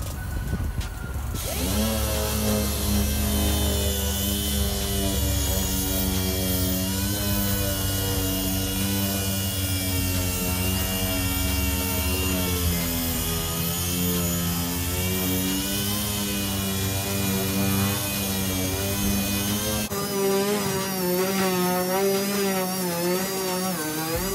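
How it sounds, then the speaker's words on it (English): Fine 800 grit sandpaper rubbed over a plastic car headlight lens during restoration, a steady continuous abrasive rasp with pulsing strokes that holds loud and close for the whole stretch, with no talking. "Now we move on to our 800 grit. This is just a finer sandpaper, and we do the same thing."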